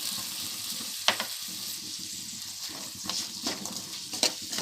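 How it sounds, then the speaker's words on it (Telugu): Ingredients for poha upma (atukula upma) frying in a pan: a steady soft sizzle close by, broken by a few sharp clicks and scrapes as the mixture is stirred. "ఇవి మంచిగా ఫ్రై అవుతాం"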